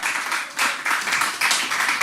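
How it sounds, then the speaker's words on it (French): Applause from a comedy club audience at a stand-up show, a dense, fairly close patter of many hands that rises and falls in short waves over about two seconds. "on les fait ensemble, on applaudit ensemble."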